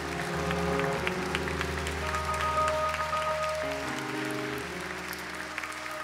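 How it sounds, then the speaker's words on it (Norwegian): Audience applause for Tor Håvik fills a church hall, steady dense clapping throughout with sustained tones beneath it, slowly thinning toward the end. "og så gir vi en applaus for Tor"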